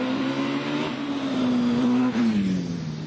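Hillclimb race car at Prescott braking late into a corner, its engine note loud and close, dropping in pitch as it slows, with a quick downshift blip near the end.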